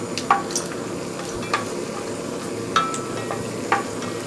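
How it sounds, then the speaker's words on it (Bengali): Whole spices frying lightly in oil in a pan: cinnamon pieces, two black cardamoms, five or six cloves and a piece of another spice, for a duck bhuna. A steady close sizzle runs throughout, with a few soft clinks from stirring and no talk. "হালকা একটু ভেজে নিব"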